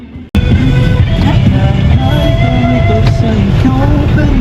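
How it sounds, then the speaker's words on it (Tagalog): A motorized tricycle on a road in the Philippines drives with a loud, steady engine drone that starts abruptly and holds close and constant to the end. "Yan ho ang aming tricycle dito sa Pinas."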